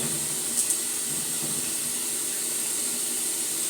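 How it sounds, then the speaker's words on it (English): Continuous bright hiss of food sizzling in a hot pan, steady and close, with a couple of faint clicks near the start. "I'm dropping it in my frying pan, which has been heating this whole time"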